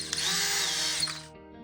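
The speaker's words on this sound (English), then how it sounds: "then drill them out" Power drill bores holes in the floor of a Walthers model roundhouse kit, giving a loud, steady high-pitched whine that spins down and stops near the end.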